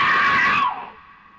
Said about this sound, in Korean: 비명 지르신 분도 계시고요.